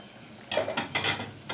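Soup liquid coming to a strong boil in a cooking pot for Egyptian fake kebab rice-kofta dishes; a steady bubbling sizzle with a few louder gurgling pops, close and alone without talk.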